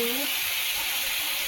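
Spiced fish curry sizzling and frying in a pan as it is stirred, a bright continuous hiss with a faint voice briefly at the start.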